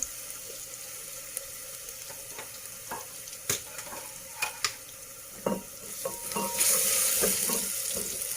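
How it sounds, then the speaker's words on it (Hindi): Sliced ridge gourd frying in oil in a pan, a steady sizzle broken by scattered spoon clinks and stirring knocks, growing louder toward the end, close with no talk. "अब इसको हम अच्छे से फ्राई करेंगे इसमें ऑयल में"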